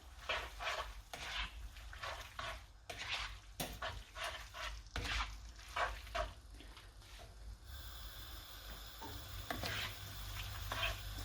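Mushroom pasta with porcini being stirred and tossed in a pan, soft irregular scraping and tapping strokes, faint and close, with a quieter steadier stretch toward the end.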